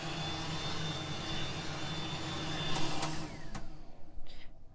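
A steady whooshing roar of a hair dryer running close by in a Disney cruise ship cabin, holding constant before cutting off near the end.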